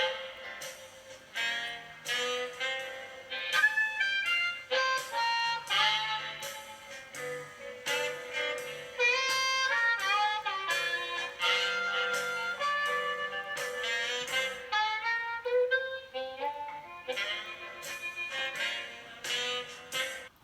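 Bb harmonica playing the verse of a song, a steady melodic line of bent and sustained notes, solo and moderately quiet, for about twenty seconds.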